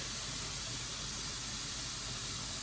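Steam from a pressure-cooking pot of corned beef hash vents in a strong, steady hiss that fills the whole stretch without a break and without any voice over it.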